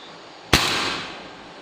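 An air rifle pellet striking a tree gives a single sharp crack followed by a short decaying ring, heard outdoors against faint background noise.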